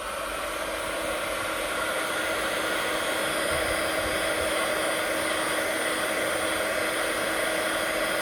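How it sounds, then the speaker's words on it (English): Handheld heat gun melting embossing powder on a stamped Christmas card, a steady close whooshing blower hum that runs unbroken throughout with no talking. "Just got my heat gun here."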